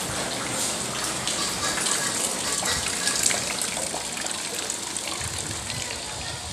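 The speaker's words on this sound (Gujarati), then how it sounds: "વરસાદનું વાતાવરણ છે" Steady rain falls outdoors in a garden during rainy weather, a continuous broadband hiss of drops and splashing water holding at an even, fairly close level throughout with no voices.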